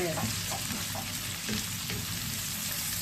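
Alexandrian-style liver with peppers cooking in a pan makes a continuous, fairly quiet hissing sizzle that holds even for about three seconds, with no clear speech over it.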